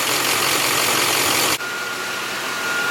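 A Duramax diesel truck engine idles with a constant drone and a faint tonal whine; the sound abruptly drops in level partway through, then continues.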